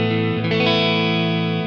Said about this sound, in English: You've got a hall, which is kind of somewhere in between.